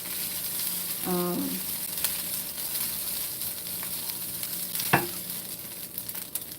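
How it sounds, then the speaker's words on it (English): Rice frying in a hot pan with a Japanese roasted-garlic seasoning, a continuous close sizzle with scraping stir strokes and one sharp utensil clink. "Just let your rice kind of touch the heat for a little bit."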